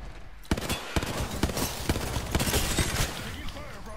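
Rapid bursts of gunfire from the Apex Legends video game, a dense rattle of repeated shots with sharp individual cracks, loud and close with explosive impacts mixed in.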